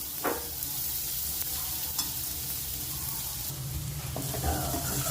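Yam and paneer sabzi being stirred in a pan: a continuous soft sizzle with occasional spoon scrapes and clinks, close and moderately quiet, without speech.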